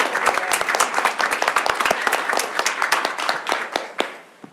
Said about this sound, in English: could we pause and Yeah. do a round of applause for Yeah.